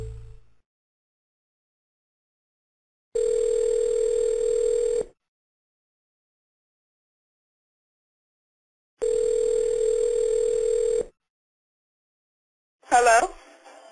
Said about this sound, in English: Jacque, we want to make one more dial